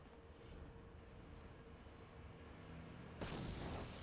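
A grenade detonates in Star Wars: Knights of the Old Republic, a sudden loud broadband blast near the end that follows a steady low ambient rumble of the game.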